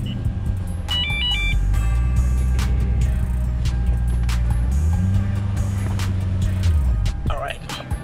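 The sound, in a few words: Lexus GS430 car pulling forward a little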